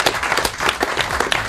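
Studio audience applause fills a New Year's Eve special broadcast on Algerian radio Chaîne III: dense, steady clapping from many hands, loud and close, with no talk over it.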